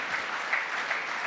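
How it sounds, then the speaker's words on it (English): Audience applauding ministers at an education conference keynote, a steady, even patter of many hands held at a moderate level from start to finish with no talk over it. "Can you clap again for the ministers in here?"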